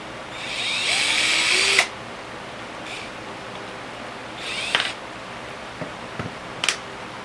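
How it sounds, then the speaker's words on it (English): Power drill boring small holes for an epoxy table mold with a tiny bit, one sustained whine of about a second followed by two shorter bursts and a few faint clicks and knocks in a quiet room. "I don't really want huge holes from my drill, from my bits"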